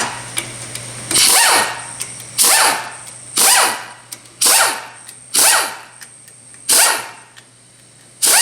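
An impact or ratchet power tool spins out 10mm bolts from a Ford 4R100 transmission pump, seven separate whirring bursts about a second long each, loud and close with short pauses between them.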